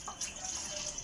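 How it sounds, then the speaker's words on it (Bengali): Water splashing and trickling over freshly cut, peeled potatoes being washed in a kitchen, a brief, close, steady pour with no voices. "আলুগুলো ভালো করে ধুতে হবে।"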